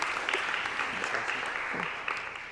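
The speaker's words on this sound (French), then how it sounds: "Mais en tout cas, vous pouvez l'applaudir." An audience applauds a speaker after a talk at a presentation, a steady wash of many hands clapping, fairly close and sustained, with faint voices mixed beneath.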